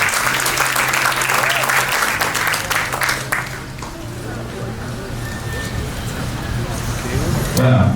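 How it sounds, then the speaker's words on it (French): Audience at a Haitian cultural awards event on 8 March breaks into loud, sustained applause and cheering, a dense roar of clapping with a low droning tone running beneath it. "Vos acclamations une fois de plus."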